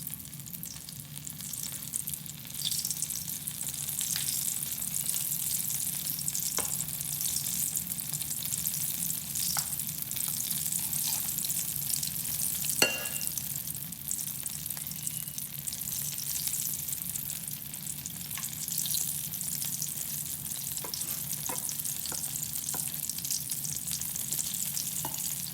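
Potato pakoras deep frying in hot oil, a steady dense hiss with occasional small pops, continuous and fairly close, with no talking.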